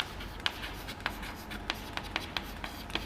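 Pen or chalk writing during a class 10 maths lesson on similar triangles, a series of short scratchy strokes and taps in an irregular rhythm, close and fairly crisp over a quiet room.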